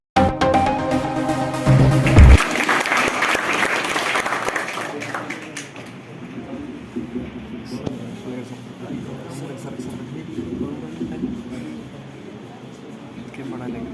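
Audience applause at a first-year ayurvedic college student welcome ceremony, a burst of clapping from a crowd that swells then thins out over several seconds, with someone speaking over a microphone beneath and afterwards.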